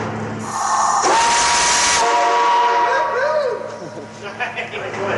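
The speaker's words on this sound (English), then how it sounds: "With the whistle system now assembled" A homemade steam whistle system under test gives loud, sustained whistle blasts with a rush of steam, then fades into hissing and scattered knocks while people talk over it.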